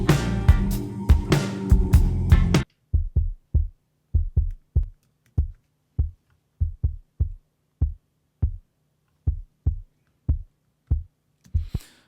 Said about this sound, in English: now I have a kick out sound that I can find useful